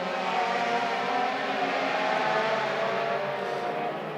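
Euroformula Open single-seater race cars scream past the finish line at the Barcelona circuit, a continuous loud, high engine whine that holds steady for several seconds.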